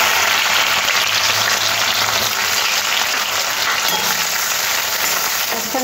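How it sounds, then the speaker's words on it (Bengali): Onions frying in hot white oil in a kadai, a loud, dense, steady crackling sizzle that runs unbroken throughout, with a faint voice briefly underneath. "পেঁয়াজগুলো ভাজার জন্য কড়ার মধ্যে সাদা তেল দিয়ে দিয়েছি।"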